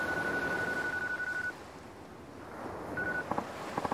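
A telephone in Yakuza 3 on PC being dialed: a steady tone holds, cuts off, returns briefly, then gives way to a few short key beeps over a low background wash, with no talk.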